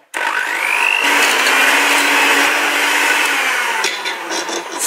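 An electric mixer beats Greek cheese pie batter of yogurt, olive oil, semolina and milk, a loud steady whirring drone that holds for several seconds, then eases and shifts in pitch near the end, with no talk.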